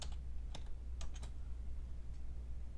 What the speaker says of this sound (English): now I can type in the input box again